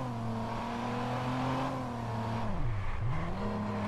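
A car in the video game Watch Dogs drives with a steady engine drone that climbs and then dips sharply as it shifts or slows, before pulling back up, loud and close with no talking.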